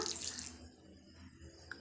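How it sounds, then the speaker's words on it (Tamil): Water being added to a rice flour and jaggery mixture for adhirasam: a brief splash of pouring water at the start, fading into quiet with faint soft stirring or dripping, close and fairly faint. "இப்போ ரெண்டு டீஸ்பூன் அளவுக்கு மட்டும் தண்ணி சேர்த்துக்கலாம்"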